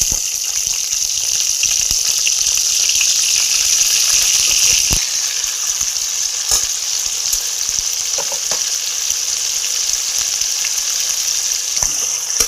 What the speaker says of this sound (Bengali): এবার ওই তেলের মধ্যেই আমি চিংড়ি মাছটা ভেজে নেব।